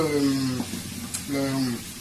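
Mango and apricot with shrimp fry in a pot, giving a steady close sizzle under a humming tone and clinks of stirring; no voice is heard.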